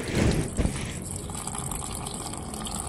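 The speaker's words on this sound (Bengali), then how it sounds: "এটা আমি আবার ভিজিয়ে রাখছি জল দিয়ে।" Water is poured onto old soil mixed with cow dung manure and mustard cake in a lotus pot, a close splashing gush that starts strong and settles into a steady trickling flow.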